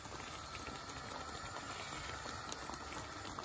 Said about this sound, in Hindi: यहाँ पे पानी हमारा जो है वो बॉयल हो चुका है।